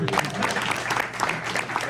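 Audience applause at a sports press luncheon, a dense steady patter of many hands clapping close by, with voices talking faintly underneath.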